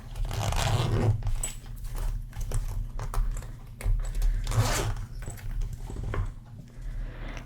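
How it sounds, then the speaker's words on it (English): The wallet pocket of a 90s backpack purse is unzipped with close, crisp zipper rasps, several short pulls that rise and fade among soft handling rustles of the fabric. "You unzip it here."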